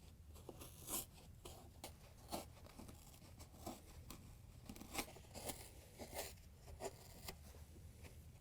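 A glued seal is peeled off the plastic blower housing of a Frigidaire dryer, making quiet, intermittent tearing and crinkling bursts in an irregular rhythm, close up and without talk.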